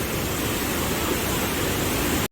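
A waterfall near the town of Perast, Montenegro, roars as a constant, dense broadband rush with no variation, cutting off abruptly at the end.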